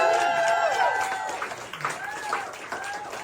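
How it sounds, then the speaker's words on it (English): An audience at a comedy fundraiser show in Toronto claps and cheers, loud at first and then thinning, with a voice speaking over the tail of the applause. "Can we have a round of applause for Ali Yu?"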